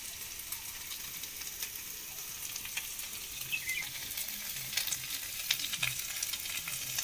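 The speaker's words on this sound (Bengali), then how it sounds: "এবার দেব আদা রসুন বাটা। এবারে দেব হলুদ গুঁড়ো" Ginger-garlic paste and turmeric fry in hot oil for a dumur (fig) curry, giving a continuous crackling sizzle broken by light scraping and stirring clicks, with no talk.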